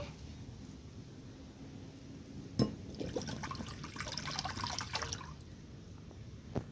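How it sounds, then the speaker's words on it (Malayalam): Water is poured into a bowl outdoors in sunny weather, a soft, splashy trickle lasting a few seconds after a brief knock, all fairly faint. "പാത്രത്തിൽ കുറച്ച് വെള്ളം ഒഴിച്ചു കൊടുക്കുവാണേ"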